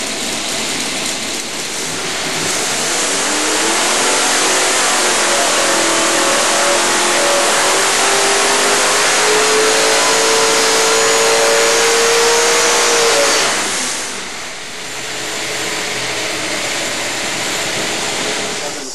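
A car engine making about 800 horsepower on a dyno, loud and close, revving steadily upward in one long pull for several seconds before dropping back and idling up again.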